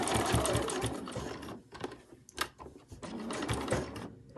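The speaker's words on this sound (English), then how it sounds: "A few stitches forward and a few stitches back" A sewing machine runs a few quick forward stitches and then a few back on a fabric cover, its rapid mechanical chatter close and steady, with brief pauses between bursts.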